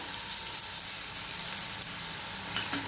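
Cinnamon fries in hot oil in a pan, making a continuous dense sizzle with faint stirring at close range.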